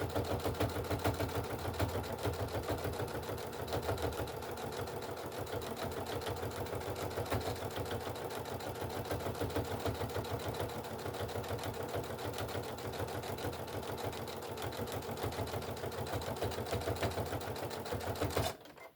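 A sewing machine stitches at a fast, even mechanical rhythm for about eighteen seconds without pause, then stops abruptly at the end.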